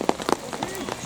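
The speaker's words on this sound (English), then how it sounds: "I left this clip in because just look at that rain" Rain falls steadily during an amateur Saturday league football match, a broad hiss with scattered louder patters and footsteps, while players shout and talk nearby.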